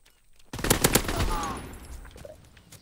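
A Lewis machine gun fires in Call of Duty: WWII, a sudden loud burst of rapid automatic shots that breaks the quiet, then fades into a trailing echo.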